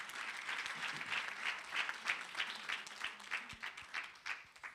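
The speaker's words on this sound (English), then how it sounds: "Let's give her a round of applause." Summit audience at a women-in-sport event applauding steadily, a broad wash of clapping with rising and falling swells, moderately distant.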